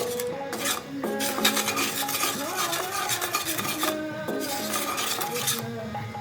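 Melted jaggery bubbles in a pan over a low gas flame as a spoon stirs it steadily, with repeated scraping and clinking against the metal close by.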